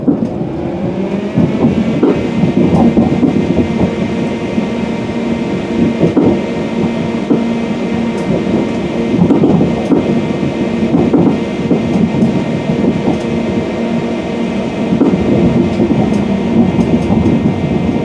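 Air-conditioned passenger train running near Leeds, heard from inside the carriage as a loud, continuous rumble with faint rhythmic rail clatter and no voices.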